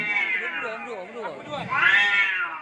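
A cat meows in long, wavering, drawn-out cries, close and fairly loud, with a higher rising wail toward the end.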